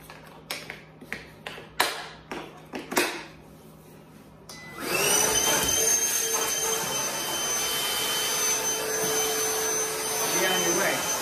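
Several sharp plastic taps and clicks come first as a Milwaukee 18V cordless shop vac is handled. The vac then switches on with a loud, steady whining rush of suction that runs to the end.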